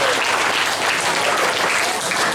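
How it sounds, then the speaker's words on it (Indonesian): Students and guests in an Indonesian school class gathering clap loudly and continuously, a dense, even wash of applause with no break. "berikan tepuk tangan yang meriah dengan tambah semangat di hari ini."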